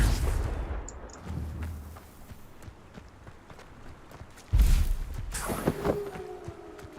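Confringo blasting spell explosions in the video game Hogwarts Legacy, a sharp loud blast near the middle followed by a rumbling burst and a rising whoosh, over background game sounds with footstep-like thumps.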